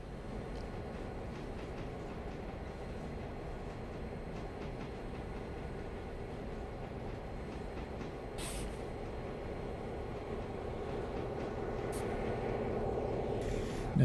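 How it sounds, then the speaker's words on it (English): Diesel locomotives roll past in the train game Railroader, a steady low rumble of engines and rail noise that holds throughout and swells slightly near the end, with a couple of faint higher clanks. "We'll see 2 diesels slide past the nav right in a moment."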